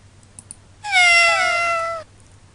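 A soundboard app built with App Inventor plays a cat's meow: one loud, clear, drawn-out cry lasting about a second, preceded by a couple of faint clicks.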